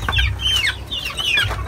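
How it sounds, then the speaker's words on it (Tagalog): Rhode Island chickens cluck nearby in a series of short, close calls over a low steady rumble, with no talking. "maraming manok yung pinsan ko"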